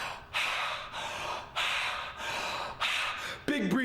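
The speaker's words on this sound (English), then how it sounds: "So you've got to breathe." Heavy, deep breathing during a breathing exercise: forceful, noisy breaths repeat about every half-second to second, close to the mic, and end in a brief voiced sound.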